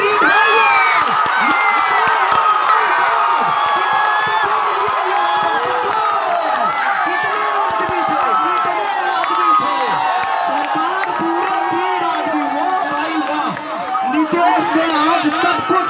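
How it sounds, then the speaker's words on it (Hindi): A large, dense crowd cheers and shouts continuously at a rural village kabaddi semifinal, a loud roar of many voices with scattered clapping lasting throughout, and a commentator's voice talking over it. "एक जोरदार तालियां बजा दे"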